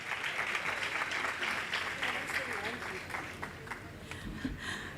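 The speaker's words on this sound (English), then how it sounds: "Round of applause one more time." Sustained applause from an audience at a pharmacy and health care sciences oath-taking ceremony, a dense, steady wash of clapping heard from some distance, with voices mixed in.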